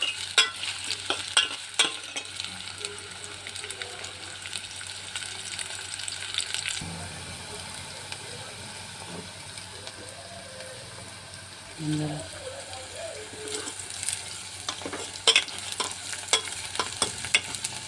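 Onions sizzle and get stirred in a frying pan while cooking dal makhani, a steady soft frying hiss with scraping stir strokes close by, louder bursts of clatter at the start and end, and a person talking over parts of it.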